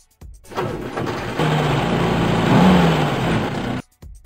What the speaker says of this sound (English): Jeep.